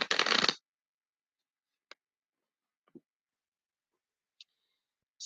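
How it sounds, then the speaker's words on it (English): A deck of Archangel Michael cards gets one brief riffle shuffle at the very start, then a few faint, scattered clicks and taps follow in near silence. "So I'm going to shuffle these one more time"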